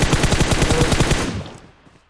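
A rapid automatic burst of roughly a dozen gunshots in the mobile battle-royale game PUBG Mobile, loud and evenly spaced, then trailing off into silence.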